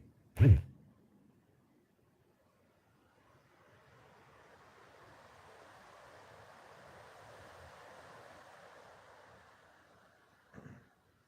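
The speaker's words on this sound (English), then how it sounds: "windy today" Soft, rushing wind swells and fades in the distance on a mountain, framed by two brief knocks at the start and end.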